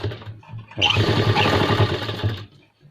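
A sewing machine stitches a triangle onto a pant pocket, a close, loud, fast mechanical run of about two seconds with softer taps before and after, no talk.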